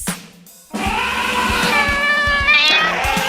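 A cat meows loudly and close, in a drawn-out, wavering call after a short quiet start, with no talking.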